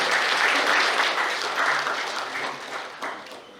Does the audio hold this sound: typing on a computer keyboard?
no